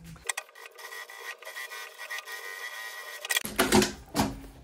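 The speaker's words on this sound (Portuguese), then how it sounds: "Aí agora eu vou passar uma costura em toda a volta." A sewing machine runs a seam all the way around the lining of a men's lunch bag, a steady close mechanical whir that starts abruptly after a quiet moment and carries on loud to the end with no talking.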